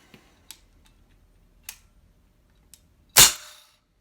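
Four quiet mechanical clicks from an AEA Terminator Gen 2 .357 air rifle, then a single sharp, loud shot near the end, close up and with no voices.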